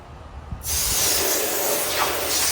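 Water sprays steadily from a hose in a yard, rinsing off a thrift-shop piece being tested, starting abruptly after a brief quiet moment and then holding as a loud, continuous hiss.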